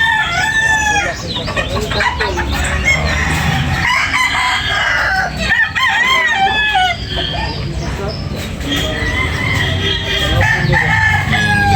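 Chickens cluck and fowl call loudly and close by at a poultry market in Tabunok, Talisay, Cebu, with a rooster's crow among the busy, continuous noise.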